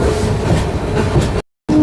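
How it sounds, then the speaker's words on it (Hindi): Jan Shatabdi Express train running on rails between Raigarh and Gondia, a loud steady rumble and rattle of wheels close by, cut by a brief silent gap before the roar resumes. "ये रही अपनी पूरी ट्रेन।"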